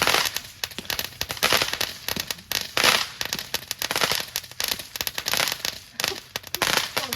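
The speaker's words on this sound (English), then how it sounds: "Papa and Raylan watching the fireworks" Fireworks at a Fourth of July gathering by a barn, a dense run of cracking, popping bursts and crackles going off continuously nearby for several seconds, with loud peaks scattered throughout.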